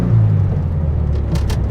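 A BMW E85 Z4 drives along, its engine a steady low rumble with road noise, heard close and loud from inside the car for a brief moment, with no talk.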